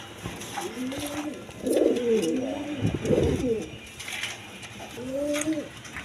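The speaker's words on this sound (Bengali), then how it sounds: "এখানে এক পেয়ার জিরে গোলা কবুতর আছে" Pigeons coo nearby in several soft, rolling calls, with a short pause between bursts and faint background noise.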